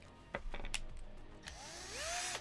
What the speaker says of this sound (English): I should be drilling this, at least for what I'm trying to do.